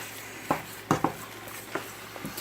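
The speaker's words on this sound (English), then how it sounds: "Give it a good mix." A spoon scrapes and knocks against a pot while lasagna sauce is stirred, a handful of sharp, irregular clinks over a quiet background.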